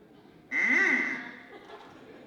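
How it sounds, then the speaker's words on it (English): A duck on stage in a theatre performance of the musical Pippin gives one loud, nasal, drawn-out quack that fades over about a second, alone in a quiet hall. "A lovable boy with his lovable duck."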